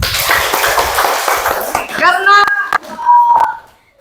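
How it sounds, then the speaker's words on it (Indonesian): A group of young participants at a coding and AI training session claps in a brisk burst for about two seconds. Excited children's voices then shout out over a quieter room. "tepuk tangan untuk kita semua"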